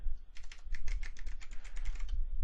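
A command is typed on a computer keyboard during a Kali Linux penetration-testing session: a quick, close run of light, even key clicks lasting about two seconds, with no talking.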